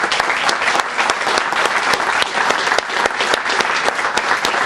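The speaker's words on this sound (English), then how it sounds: "give you a round of applause on behalf of all of your colleagues" Audience applause at a 911 call center accreditation ceremony, heard as loud, dense and sustained clapping with a few sharper claps standing out near the front.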